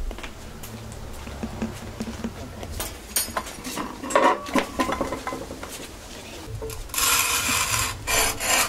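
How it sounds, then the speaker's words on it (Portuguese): Roasted coffee beans are ground by hand in a rural home, giving a steady close rasping, grinding rub that grows louder and harsher toward the end, with faint clinks of utensils. "Então vem moer, Lívia."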